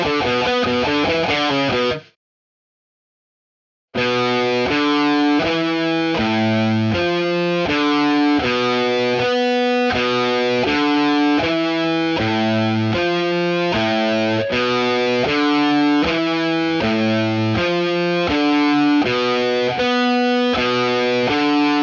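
Distorted electric guitar playing a riff, with the lowest notes moved up an octave; a fast, steady run of picked notes, loud and alone after a brief silence near the start.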